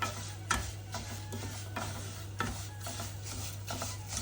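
Beaten rice and semolina roasting in ghee while being stirred, with repeated scraping stir strokes over a low sizzle and a steady hum underneath, close and fairly quiet.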